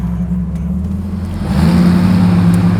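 A 1968 Pontiac Firebird muscle car's V8 revs up and accelerates hard, the engine note climbing and growing louder partway through, close and strong with no talk.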